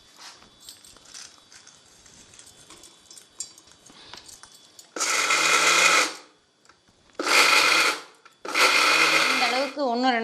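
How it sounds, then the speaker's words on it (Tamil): Skinned peanuts are ground to powder in a mixer grinder, three loud whirring bursts of a few seconds each with short pauses between, after quieter kitchen handling sounds. "இது சூடாகிறதுக்குள்ளே தோல் எடுத்த நிலக்கடலை இதை 1 2 பொடி பண்ண போகிறேன்."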